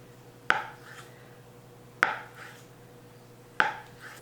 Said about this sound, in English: So this particular soy-free tofu is made from faba beans. So we're just going to cube this up.